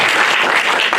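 A small improv-show audience claps in a dense, steady patter of applause, close and fairly loud, with no voices standing out.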